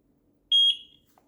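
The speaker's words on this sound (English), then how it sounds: "Press the button on top until you hear a beep." A Eufy Floodlight Cam 2 gives one short, high electronic beep during sync setup, clear and close in an otherwise quiet room.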